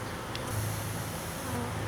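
Honey bees at an open hive during an inspection make a faint, steady buzzing hum that stays low and continuous throughout, with no talking.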